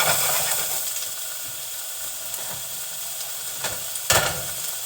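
Blue oyster mushrooms from Bridgetown Mushrooms fry in a pan on an unsteady burner, sizzling loudly and constantly, with one sharp clack of the pan or a utensil near the end.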